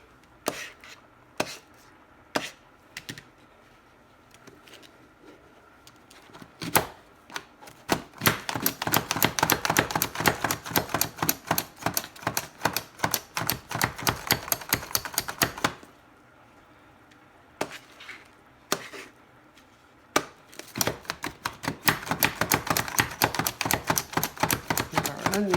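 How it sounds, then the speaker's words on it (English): A knife chops an onion on a cutting board for a beef stew. A few slow, separate taps lead into long runs of fast, sharp chops, with a pause before a final quick flurry. "Cut our onion in half."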